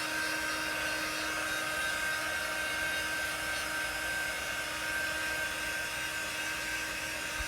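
A handheld dryer blows steadily to dry chalk paint, producing a constant, even whine and whoosh from start to finish with no voices.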